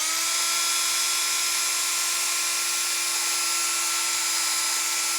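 Power sanding pad spinning at about 500 RPM against lacquered wood on a dyed platter, giving a steady, loud high-pitched whine with a low constant hum, continuous and unbroken throughout.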